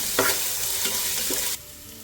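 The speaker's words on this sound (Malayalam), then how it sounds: "വെളിച്ചെണ്ണ ഇട്ട ശേഷം നമുക്ക് ഇഞ്ചി വെളുത്തുള്ളി പേസ്റ്റ് ഇടാവുന്നതാണ്. നല്ലപോലെ ഒരു കളർ മാറുന്ന വരെ ഇതൊന്ന് വഴറ്റിയെടുക്കാം." Ginger garlic paste sautéing in coconut oil for a Kerala-style beef pulao, a bright close sizzle with a few spoon stirs, cutting off abruptly near the end.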